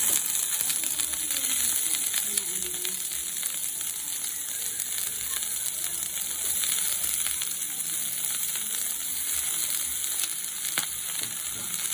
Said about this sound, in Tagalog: para i-fry ko muna itong broccoli for 2 to 3 minutes